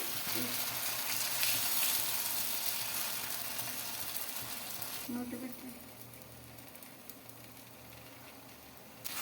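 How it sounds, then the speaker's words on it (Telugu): Aloo paratha made with wheat flour frying on a hot pan, a steady close sizzle throughout that dips slightly partway, with brief scraping from pressing the flatbread lightly. "పరోటా అయితే వేసుకుంటున్నా మనం ఎక్కువ ప్రెస్ చేయకూడదండి లైట్గానే ప్రెస్ చేయాలి"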